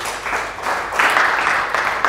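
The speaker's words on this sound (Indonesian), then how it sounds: "Kasih tepuk tangan untuk Tuhan." A church congregation applauds in a dense, roomy wash of clapping that swells and stays steady for about two seconds.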